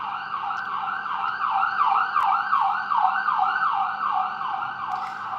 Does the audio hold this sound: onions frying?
no